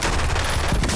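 Rapid gunfire from the Warzone video game, a dense, loud burst of overlapping shots filling the whole moment.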